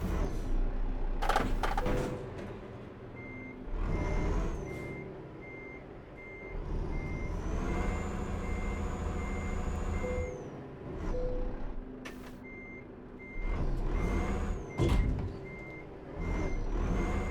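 Steady, evenly spaced reversing beeps from a truck in Euro Truck Simulator 2, running under heavy engine drone with hissing air-brake bursts and a few clunks.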